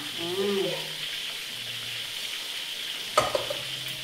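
Shallots and tomatoes frying and sizzling in a home kitchen pan with stirring, a steady hiss under faint voices and a sharp clatter near the end.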